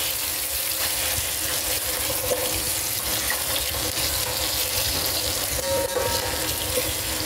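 Tap water runs steadily over moringa leaves and pods being rinsed for tinolang tilapia, a constant close splashing hiss throughout with no talk.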